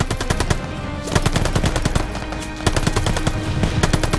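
Rapid machine gun fire from the video game Call of Duty Vanguard, set on Omaha beach with German artillery, rattles in continuous dense bursts with sharp repeated cracks, loud and close throughout.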